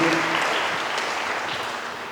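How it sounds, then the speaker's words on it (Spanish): A crowd claps steadily in sustained applause, loud and close, fading slightly toward the end. "Un aplauso, pe."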